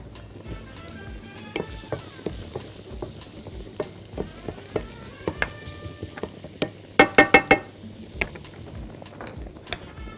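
Garlic frying in ghee in a pan, a soft steady sizzle with frequent clicks and taps of a utensil stirring, including a quick cluster of sharp metallic knocks midway.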